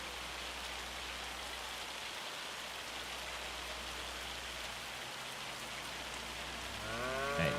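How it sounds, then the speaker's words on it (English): Hail in the Farming Simulator 25 game's Wisconsin weather comes through as a continuous, even patter of ice on surfaces, soft and steady, with a brief tonal sound entering near the end. "Fucking hail. You know, this is true Wisconsin weather right here."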